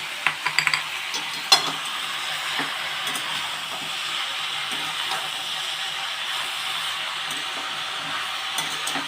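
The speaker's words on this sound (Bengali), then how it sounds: "যেহেতু শাক ভাজা এতে একটু মিষ্টি একটু দেবো।" Mixed leafy greens stir-frying in a pan with a spoonful of sugar, giving a steady soft sizzle and hiss with a few clinks of a spatula near the start, close and alone without talk.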